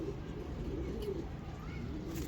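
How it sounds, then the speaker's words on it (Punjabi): A Shah Parwaz pigeon, a desi breed from Faisalabad, coos softly and low over a constant background hum, with no talking heard. "ਭੁੱਖ ਲਾਤੀ ਜਨਾਬ ਕਬੂਤਰ ਨੇ"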